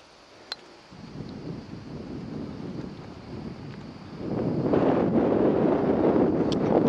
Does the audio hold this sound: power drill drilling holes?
no